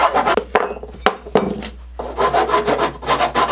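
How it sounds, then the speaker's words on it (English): Steady rasping strokes of sandpaper on a wooden axe handle, rhythmic and close, with a few sharp knocks between passes. "it's going to take a bunch of sanding, probably some extra cutting"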